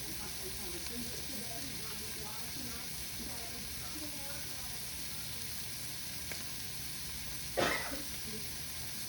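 Bacon frying in a pan gives a soft, steady sizzle throughout, fairly quiet, with one brief louder clatter near the end.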